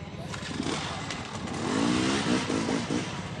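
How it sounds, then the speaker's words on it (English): Two-stroke dirt bikes rev hard on a steep hill climb at a King of the Motos race, engines wailing and rising in pitch together, loud and continuous, with a commentator talking over them. "you can hear those 2 strokes revving out"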